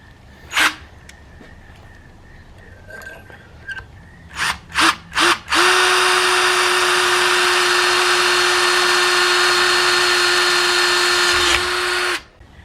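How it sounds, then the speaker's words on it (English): A power drill spins up and runs steadily for several seconds with a sustained whine, preceded by a few short trigger bursts and clicks, then stops, while drilling a small 1/8 inch pilot hole. "first I'm going to drill through the other side a smaller 1/8 inch hole"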